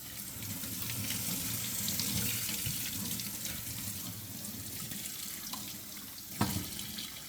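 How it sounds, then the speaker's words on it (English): A mop filter is rinsed under a running sink faucet, a steady close rush of water splashing and gurgling, with a brief knock near the end. "I just use my sink just to rinse it real quick"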